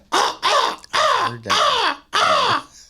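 A man imitates a crow's caw with his voice, giving five loud, harsh caws in an even rhythm, close up and with no other sounds.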